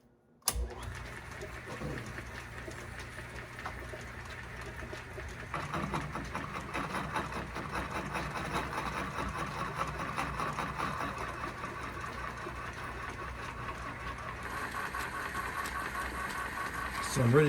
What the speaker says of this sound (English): So 1908 milling machine.